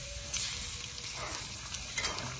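Masala paste roasts in a pan with a soft, continuous low sizzle and faint crackle, quiet and steady with no talking.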